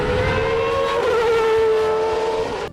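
Renault Espace F1, a minivan fitted with a Formula 1 engine, idling loud and close with a steady high-pitched drone that holds evenly before cutting off abruptly at the end.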